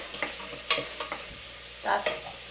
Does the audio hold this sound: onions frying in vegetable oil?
yes